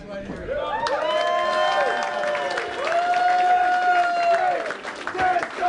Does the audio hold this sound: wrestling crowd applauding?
yes